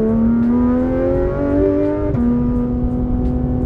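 Porsche GT3 RS engine pulling hard under acceleration, a loud, close, steady rising tone that drops briefly at a gear change and then climbs again.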